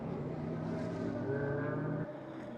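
A GT4 race car runs down the main straight at Fuji during a Japan Cup race, its engine a steady, loud tonal drone that drops slightly near the end, with no voices.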